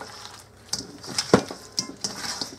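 Chicken wings are tossed in barbecue sauce in a bowl, with wet clattering stirs and light scrapes of a utensil against the dish, close and irregular, with no talk.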